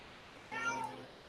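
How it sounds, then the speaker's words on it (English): A cat meows once in the background, a single drawn-out, rising-and-falling cry lasting about half a second, moderately loud over a faint steady room hum. "Got a kitty screaming in the background here"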